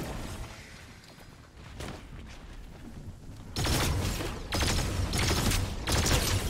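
Rapid bursts of gunfire from a player shooting in a multiplayer video game, quiet at first and then loud, dense volleys starting partway through and repeating in several close, sustained bursts.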